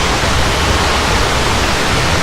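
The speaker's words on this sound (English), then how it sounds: "There's a little waterfall there." A small waterfall at an indoor waterpark pours in a steady, dense rush of falling water that stays loud and constant throughout, with no voices over it.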